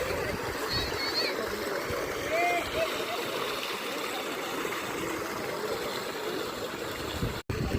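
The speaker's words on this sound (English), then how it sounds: "this is the reverse waterfall of Amboli and it has a very deep valley" Rushing water of the reverse waterfall at Kavalesad Point near Amboli, above a deep valley: a steady, loud broadband roar with some splashing, continuous throughout with a brief dropout near the end.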